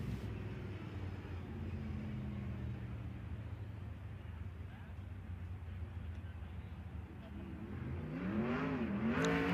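410 sprint cars run qualifying laps at Kern Raceway, a steady engine drone that rises at the end as a car roars nearer, with commentary talking over it throughout.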